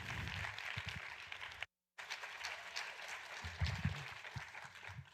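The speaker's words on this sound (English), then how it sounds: "Please put your hands together." Audience applause at an event spotlighting TV series, a sustained wash of clapping from a crowd, moderately distant, briefly cut by a short silence before continuing.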